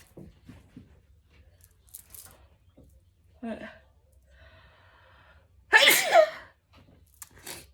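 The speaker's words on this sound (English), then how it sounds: "I have to sneeze." After some quiet shuffling and soft breaths, one loud, close sneeze bursts out, then the room settles back to near silence.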